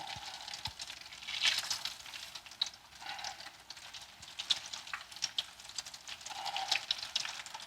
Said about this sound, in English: As soon as these things hit the oil